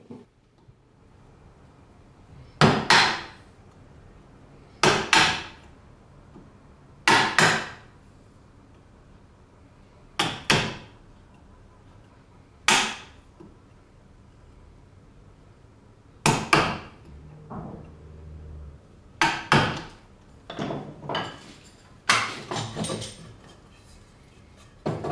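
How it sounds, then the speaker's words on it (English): Wide chisel struck with a mallet to mark the base of a mortise in wood for a Japanese double dovetail joint, about a dozen sharp, separate knocks at uneven intervals in a quiet room. "first mark the base of the mortise with a wide chisel."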